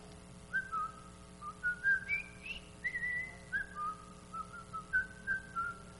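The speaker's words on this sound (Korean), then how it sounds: "이게 어떤 영화에 나오는 휘파람인데 아세요? 콰이강의 다리." One person whistles the Bridge on the River Kwai march tune alone, a clear, close melody of short, bouncing notes in a steady rhythm.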